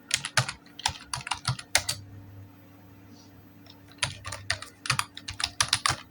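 Typing on a computer keyboard while building a spreadsheet table: bursts of rapid key clicks, a pause of steady background hum, then more quick clustered keystrokes, near and clear.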